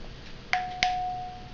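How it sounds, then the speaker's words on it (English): A regular incandescent-bulb flashlight gives two quick light taps, each followed by a thin, steady ringing tone from the filament that hangs on faintly for about a second in a quiet room. "you can hear the filament ringing."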